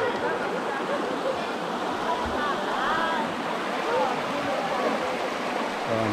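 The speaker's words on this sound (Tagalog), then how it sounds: "Ang ganda rin ng ilog dito sa ano, Alantas." River at Calantas, Calaca, Batangas, rushing steadily in a constant broad wash of flowing water with small gurgles and no pauses, moderately close.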